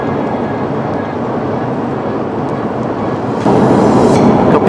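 A road train truck passes on the Nullarbor highway, a steady broad roar that suddenly grows louder and closer in the final second or so.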